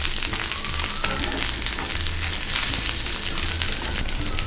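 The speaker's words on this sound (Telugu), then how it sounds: "రెండు పచ్చిమిర్చి ముక్కలా కట్ చేసుకొని వేసుకోవాలి. ఒక్క నిమిషం వేగనివ్వాలి." Two chopped green chillies fry in hot oil with curry leaves, giving a dense, continuous loud sizzle and crackle close by, with no talking.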